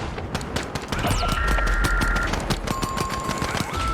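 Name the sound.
turret gunfire in The Finals video game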